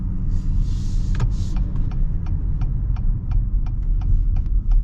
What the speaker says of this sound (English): Turn signal makes an interesting sound. It's very like chunky.